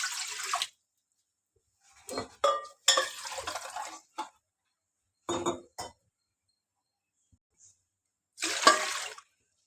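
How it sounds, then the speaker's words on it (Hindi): Mugs of water are poured into a kadhai holding soaked rice on a lit stove, heard as several separate splashing pours with quiet gaps between them and no talk. "ये 6 मग इसमें मैंने पानी के डाल दिए हैं।"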